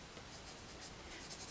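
Marker with a small nib coloring a St Patrick's Day card in short strokes, a continuous soft scratchy hiss across the paper, close and steady with no talking.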